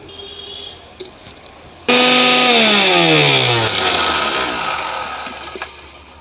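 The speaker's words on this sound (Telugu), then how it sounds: "ఈ పుదీనాని మిక్సీ పట్టుకోవాలి మెత్తగా." A mixer grinder whirs loudly as it grinds mint leaves, starting abruptly after a quiet lead-in with a rising whine that gradually settles and fades slightly over several seconds, heard up close with no talking.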